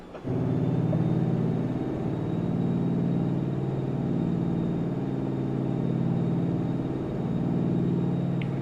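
A Mack truck hauling triple log trailers over snowy Alaskan roads in American Truck Simulator, its engine holding a steady, loud, low rumble that drones on without a break.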